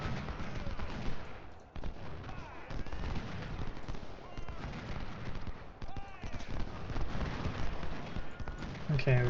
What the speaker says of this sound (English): get some revolver shots on these guys